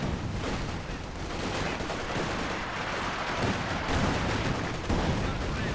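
Dense, continuous automatic gunfire from a Maxim machine gun in the Company of Heroes 2 video game, loud and unbroken for several seconds, layered with battle noise and no clear gaps between bursts.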